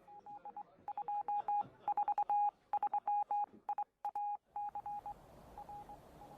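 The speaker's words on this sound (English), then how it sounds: "Mrs. B, can I use your phone? Need to make a fairly urgent call to the BBC." A telephone dials a rapid series of touch-tone beeps in several quick bursts, clear and fairly close, with short pauses between groups and faint room noise behind.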